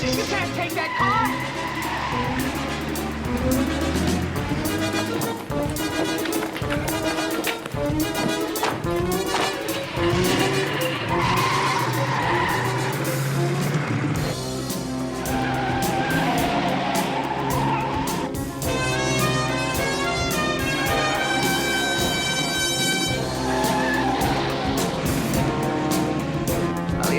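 A car peels away with tires squealing and skidding amid a driving action scene in the TV series The Fall Guy, loud engine revving and screeching tires over a dense musical soundtrack.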